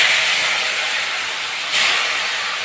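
Gourd pieces coated in salt and turmeric fry in hot oil in a pan, giving a steady, dense sizzling hiss. A brief rise in intensity comes partway through, with no voices.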